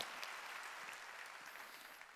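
A church congregation at a Korean Wednesday worship service claps together in a steady, dense burst of applause that sounds somewhat distant and fills the whole moment without any talk over it.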